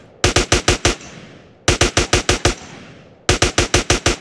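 Three bursts of rapid gunfire in GTA San Andreas, each a loud run of five or six sharp shots with short gaps and fading echoes between bursts, with no voices.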